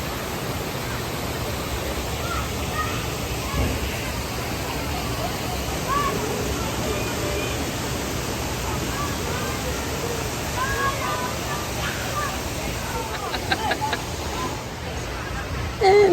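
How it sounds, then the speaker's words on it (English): Broad, steady rush of water on a Dollywood river rapids raft ride, continuous and enveloping for the whole stretch, with faint voices and splashes mixed in. "part of our group floating lovely down the river, getting soaking wet"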